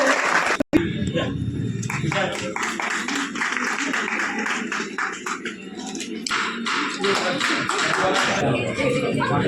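An audience at a women entrepreneurs' event claps in dense, steady applause with some louder near claps, while voices talk over it.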